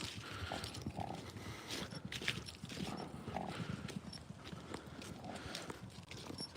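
Several horses at a paddock clip-clop as they run around, a continuous close jumble of hoofbeats on the ground with a faint voice briefly audible.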